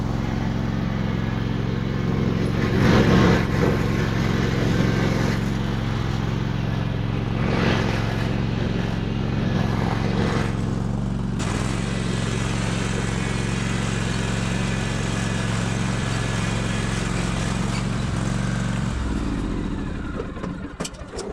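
A riding lawn mower engine runs steadily and loudly nearby for a long stretch, with occasional throttle surges, before it winds down and sputters near the end.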